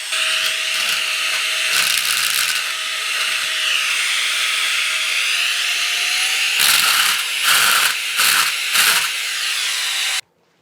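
A MECO cordless electric air duster blows steadily, producing a loud, close, continuous high-pitched whine with airy rushing, broken by several short bursts where the airflow shifts, and then it cuts off sharply at the end.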